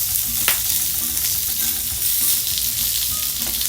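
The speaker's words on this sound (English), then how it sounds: "Put some of these sausages on too." Sausages frying in a pan alongside bacon for an English breakfast okonomiyaki, a loud, close, steady crackling sizzle with a few sharp pops.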